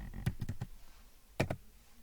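Typing a password on a computer keyboard: a quick run of four or five close keystroke clicks, a pause, then two more sharp taps, with no talking.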